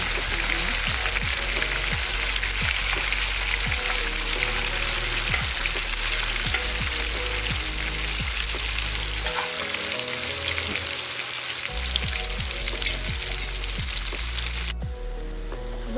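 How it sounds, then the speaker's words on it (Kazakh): Eggplant coated in corn starch fries in hot oil, a continuous loud crackling sizzle with a steady bubbling pulse and a brief quieter dip near the end, close up with no voices. "Енді қызып тұрған майымызға қуырамыз."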